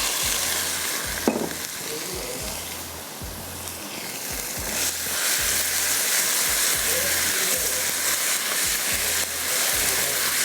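Chicken sizzling and frying in a pan with black pepper, red chilli powder, cumin, garlic and ginger, a steady close hiss with brief stirring scrapes throughout.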